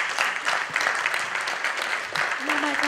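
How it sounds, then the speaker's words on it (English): An audience applauds a team at a conference session, with dense clapping and some cheering running throughout the short stretch while a voice is heard partly over it. "Y'all give a round of applause for this amazing team."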